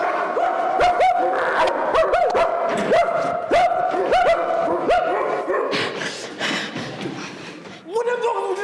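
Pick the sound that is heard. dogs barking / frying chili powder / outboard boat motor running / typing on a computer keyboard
dogs barking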